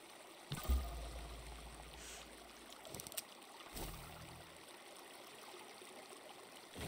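Steady rush of a flowing stream and waterfall in the Creativerse block-building game, a continuous watery hiss that stays fairly even throughout, with a few soft thuds and no talking.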